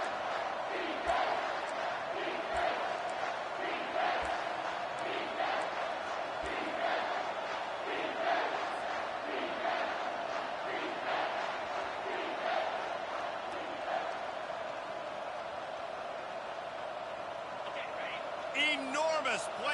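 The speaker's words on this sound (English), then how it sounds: "Third down, and this crowd is bringing down the house." A stadium crowd at a Texas football game roars steadily through a tense third down, a dense, sustained wall of cheering and shouting with scattered loud yells rising above it.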